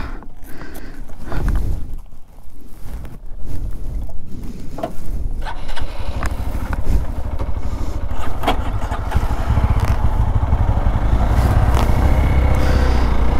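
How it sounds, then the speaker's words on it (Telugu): A Hero Xpulse motorcycle being ridden, its engine rumbling loudly and steadily close by, with wind and road noise building as the bike gets under way. "సో ఒకసారి మనం ఎక్స్పల్స్ రైడ్ చేద్దాం, కాసేపటి వరకు మెయిన్ రోడ్ ఎక్కేంత వరకు ఎక్స్పల్స్ రైడ్ చేద్దాం అనుకుంటున్నా."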